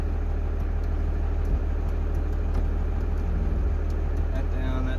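A truck with a swapped-in 12 valve engine running, a steady loud low rumble close by throughout, with faint light taps over it.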